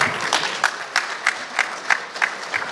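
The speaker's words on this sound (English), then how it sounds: "A round of applause, please." Applause from an audience at a community gala dinner, fairly soft and somewhat distant, with claps landing in a loose, steady rhythm over a few seconds.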